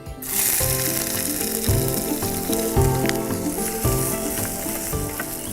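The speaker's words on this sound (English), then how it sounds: "the first thing that's going to go into the pan is the red onions" Red onions hit smoking-hot oil in a pan and fry with a loud, continuous sizzle, broken by regular scraping and clacking of stirring, all close up and without talk.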